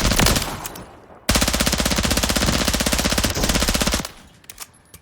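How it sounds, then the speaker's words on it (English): An MP7 submachine gun fires in a long rapid automatic burst on a Call of Duty firing range, loud and close, with its crack echoing briefly after the burst stops. "So that's our MP7. Let's go ahead and jump into the firing range with these ones."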